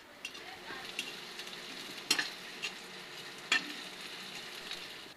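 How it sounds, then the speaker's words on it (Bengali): Onion and dried chili frying for dal make a faint, steady sizzle, with occasional light clicks and scrapes of stirring. Two sharper knocks stand out, and no one speaks. "ডালের জন্য পেঁয়াজ আর শুকনো মরিচ ভেজে নেওয়া হচ্ছে"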